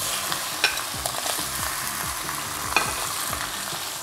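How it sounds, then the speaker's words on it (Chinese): Chicken stir-frying in oil in a hot wok sizzles steadily while a spatula scrapes and tosses it in a repeated rhythm, with a couple of sharp metallic clinks, close and fairly loud, no voices. "落完啲油咧，就开始爆香隻鸡，爆到佢转色啦。"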